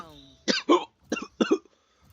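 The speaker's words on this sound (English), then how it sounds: "I might have a tad bit of a cough." A sick person coughs close to the microphone during a game session, two short bursts of harsh double coughs with a brief pause between them.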